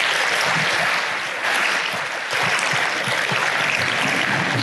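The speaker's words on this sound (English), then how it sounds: "Can I have another round of applause for Tanya?" An audience at a security keynote talk claps in sustained, dense applause that fills the hall steadily for several seconds and stays loud throughout.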